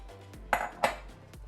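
Cooked Peruano beans tumble into a cooking pot with two quick, close metallic clanks about a third of a second apart, set against a quiet kitchen background.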